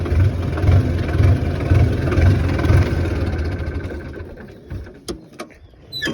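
Plough tractor engine running in a farm field, a steady low chugging rumble with pulsing throb that fades slightly, followed by a few sharp clanks near the end.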